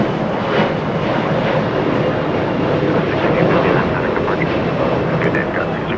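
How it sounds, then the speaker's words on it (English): A blue Boeing 747 pushes back at LAX airport. Loud, steady jet engine roar and broadband airport noise fill the scene without letup, with faint radio-like chatter under it. "Talking about that blue plane pushing back right now."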